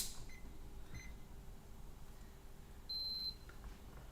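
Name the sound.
electronic continuity-test beeps from a meter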